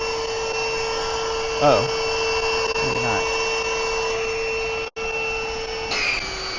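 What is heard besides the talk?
air pump inflating a Dikasun air mattress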